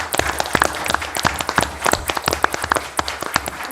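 A township board meeting audience gives a brief round of applause, close and fairly loud, with sharp individual claps distinguishable in the quick irregular patter.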